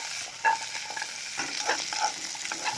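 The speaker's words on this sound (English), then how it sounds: "You just need to saute" Turmeric and small chili sautéing in a pan for Indonesian chicken curry, a steady close sizzle with a few sharp utensil scrapes and knocks scattered through it.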